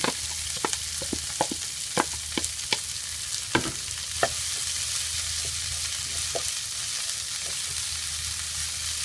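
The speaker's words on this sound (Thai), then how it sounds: "ก็ผัดให้โดนไฟทั้งสองด้านนะคะ ให้มันสุกทั่วๆหน่อย" Pickled mustard greens stir-fried in a pan with crushed garlic, a loud constant sizzle broken by repeated scrapes and knocks of the spatula, close up with nobody speaking.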